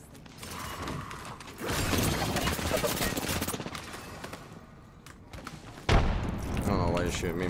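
Gunfire in the video game Apex Legends, bursts of rapid automatic shots and mechanical clatter from a team fight, loud and dense throughout with a sharp jump in intensity near the end, under excited voices.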